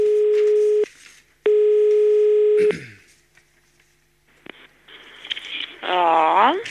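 A telephone dial tone holds steady, breaks off, then returns as a handset is lifted to place a call, followed by a short click and a brief burst of dialing tones near the end, with no talk.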